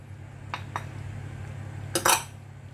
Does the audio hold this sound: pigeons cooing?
no